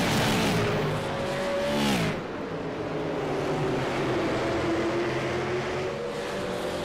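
Several race cars roar past on a racetrack during a SARA Impel national tour event, engines loud and close with a rising then sweeping pitch as they pass, heavy continuous motor noise throughout with no talk.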